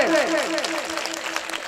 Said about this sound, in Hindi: पहुंचा देना अपनी तालियों का शोर ताकि नींद में खलल पड़ सके।